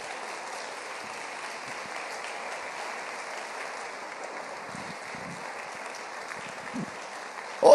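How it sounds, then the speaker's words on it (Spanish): A church congregation claps steadily in sustained applause, moderately loud and even throughout, swelling slightly at the very end. "¿Alguien le puede dar un aplauso al Señor?"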